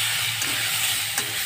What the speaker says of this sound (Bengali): একদম ভেজে নেব।